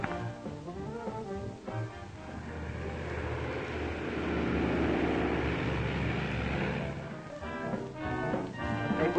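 New plastic airplane from a 1941 aviation drama flying overhead: a propeller engine drone that rises to a loud pass and fades away, heard alone over faint background sounds.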